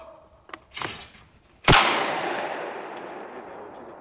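A single sharp gunshot cracks out after some faint knocks and rustling, its loud report echoing and slowly fading away across open ground.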